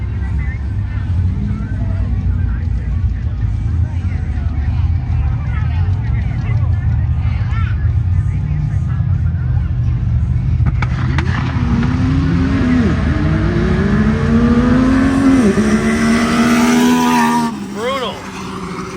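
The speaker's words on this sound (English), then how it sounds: "Kyle's up, racing against a couple other side-by-sides" Side-by-sides drag racing, with loud, steady engine roar that rises in pitch as the machines accelerate near the end; voices talk over it throughout.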